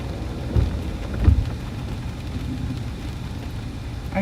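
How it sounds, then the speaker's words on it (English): Steady rain falls during a storm chase in Texas, with a low thunder rumble under the dense patter. The sound is fairly loud and continuous, and no one speaks. "I heard thunder."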